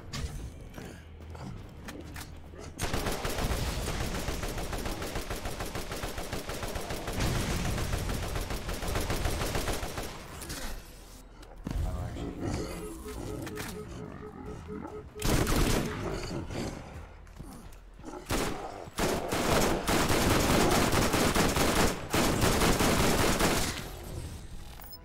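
Rapid bursts of gunfire from the video game Borderlands GOTY while a loot goon is shot down, loud sustained volleys broken by brief gaps and mechanical clicks, with no talking over them.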